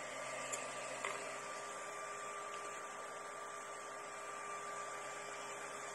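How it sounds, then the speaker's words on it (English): An ERYONE Star One 3D printer runs with a low, steady hum and faint tonal whine, quiet and even throughout, with a couple of tiny clicks near the start and no voices. "Quiet printer"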